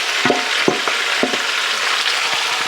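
Onions and ham sweat down in a pot for Southern split pea soup with a steady, close hiss of sizzling, broken by a few soft knocks of stirring.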